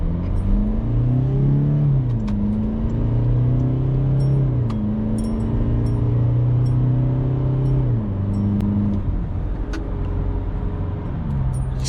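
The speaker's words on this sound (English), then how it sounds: "showing you a quick acceleration now" A 2021 Toyota Fortuner GXL 4x4 with automatic transmission accelerates hard in sport mode, its engine note rising in pitch, dropping at each gear change and climbing again several times, heard steadily from inside the cabin with no talking.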